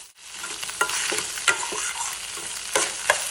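Five eggs frying in a pan for veg fried rice, a continuous sizzle broken by several sharp scraping stirs of a spatula against the pan, close and loud with no talking.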